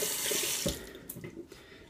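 Hot water from a tap runs briefly into an old shaving container, a soft steady splash that tapers off after about a second, fairly quiet with no talking.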